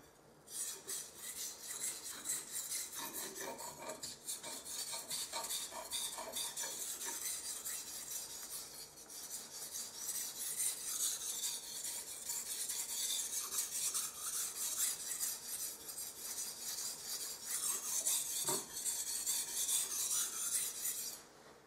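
A kitchen knife is sharpened on an 800-grit whetstone with steady, continuous rasping strokes, close and even throughout with no talking.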